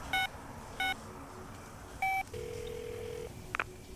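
A telephone gives repeated short electronic ring bursts, three evenly spaced tones followed by a longer beep and a brief chirp, clear and fairly close against a quiet background.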